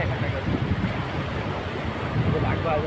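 Ocean waves roll in on a shore, a broad washing rush with wind buffeting the microphone, steady and close throughout.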